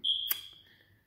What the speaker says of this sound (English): Now you hear that chirping noise.